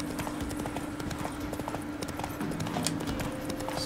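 Roach the horse galloping in The Witcher 3, hooves beating a fast, steady clip-clop rhythm close by over low ambient game sound.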